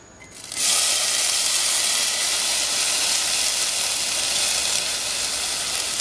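Yellow onions and garlic hit hot olive oil with a sudden loud, steady sizzle that starts after a brief quiet moment and holds bright and hissing to the end.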